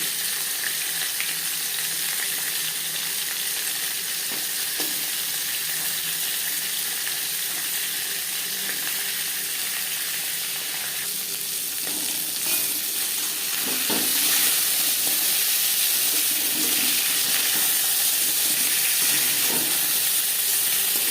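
Bhetki fish bones and head fry in hot refined oil in a pan, giving a loud, continuous hiss that holds steady for the whole stretch. Occasional faint pops rise through it, and there is no speech.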